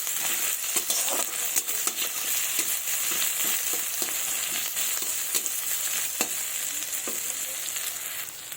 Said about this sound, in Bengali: অল্প একটু লবণ দেব, দিয়ে পেঁয়াজগুলোকে একটু লাল লাল করে ভেজে নেব